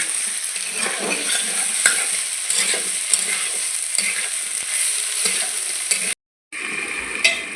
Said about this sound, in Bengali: সোয়াবিন আর আলুটাকে আমি ভালো করে কষিয়ে নেব